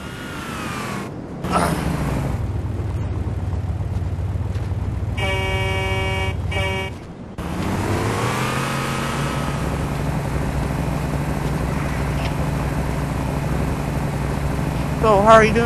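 A taxi pulls up with a steady low engine hum and idle rumble, then a short buzzy horn-like toot midway, with muffled voices faintly present.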